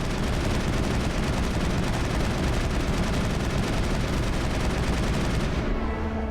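Gunfire in the PC game Mass Effect 1 rattles as a dense, continuous stream of rapid shots at steady loudness. It cuts off abruptly just before the end.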